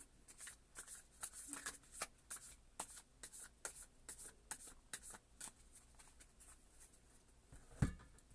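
Tarot cards being shuffled by hand in a quiet room, a run of soft rapid riffling bursts repeating in a steady rhythm, close and fairly faint, with no talking.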